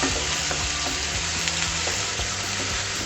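Onion puree made from three ground medium onions hits a hot pan for dhaba-style paneer masala, giving a loud, continuous crackling sizzle up close.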